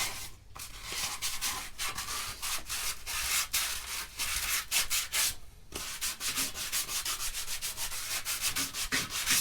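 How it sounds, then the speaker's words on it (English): Sandpaper rubbing back and forth over metal suspension bushing sleeves for a Nissan S14 build, a steady, close scratchy rasp in quick repeated strokes with a few brief pauses and no talking. "get some sandpaper and some brake clean up the surfaces in here, make sure they're nice and smooth"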